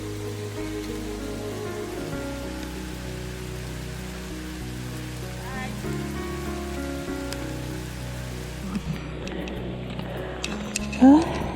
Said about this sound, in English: This is a harder rain even than yesterday